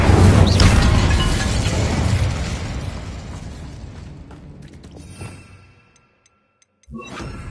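A fire spell cast in the Hogwarts Legacy video game lets out a loud, roaring burst that dies down into a fading crackle, then a brief silence and a sharp new hit at the end.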